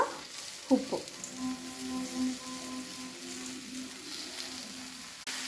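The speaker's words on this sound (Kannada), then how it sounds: "ಉಪ್ಪನ್ನ ಹಾಕಿ ಸ್ವಲ್ಪ ಹೊತ್ತು ಬಾಡಿಸ್ಕೊಳ್ಳೋಣ." Okra fries in oil with turmeric powder in a pan, a steady soft sizzle with a few sharp clinks of a spoon near the start and faint stirring throughout, no voices.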